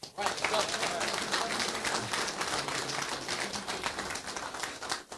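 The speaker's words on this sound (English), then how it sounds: "Another round of applause." Steady, dense applause from an audience at a city council meeting honoring championship-winning performers, a continuous wash of many hands clapping for about five seconds without pause.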